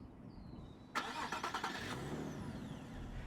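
A Nissan 370Z Nismo engine cranks and catches with a quick burst of starter pulses, then settles into a steady mid-pitched idle nearby.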